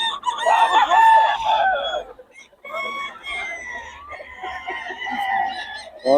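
Chickens and roosters in Bocaue crow and cluck nearby, with loud overlapping calls at the start and more crowing later, and someone speaking briefly among them.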